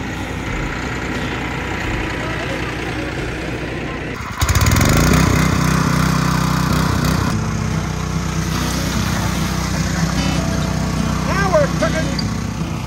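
A tractor engine runs steadily outdoors in cold conditions, its rumble growing louder and rougher partway through as the tractor is moved forward, with faint mechanical clatter throughout.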